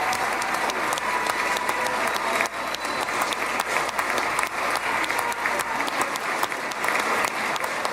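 Long, steady applause from a large audience at a political event celebrating the return of hostages, continuous dense clapping with a brief dip partway through, no voices over it.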